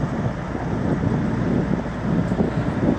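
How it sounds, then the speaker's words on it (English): Strong wind buffets the microphone with a constant low roar and rumble, loud and unbroken throughout. "Sorry you guys are hearing all that wind."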